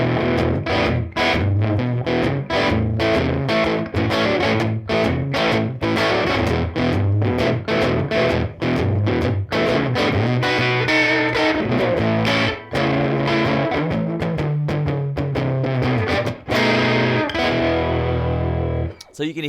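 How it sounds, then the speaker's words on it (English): Electric guitar through an amp with the boost engaged, playing rockabilly-style riffs with heavy, thick overdrive; loud, continuous and dense chords and picked notes with sharp attacks throughout, no talking. "the boost really kind of makes it sound like you've got an amp cranked to the edge of its life"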